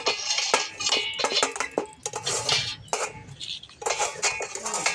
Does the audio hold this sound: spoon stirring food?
yes